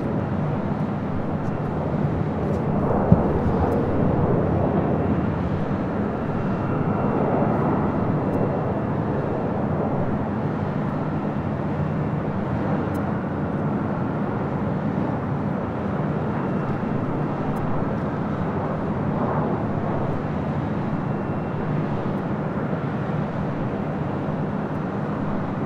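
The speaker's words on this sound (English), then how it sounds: "Next arrival is Southwest Airlines Flight 1337 coming from SFO and a 737-700." A Southwest Airlines Boeing 737-700 arriving at LAX from SFO gives a steady, loud jet roar that holds without a break for the whole stretch, with no voices.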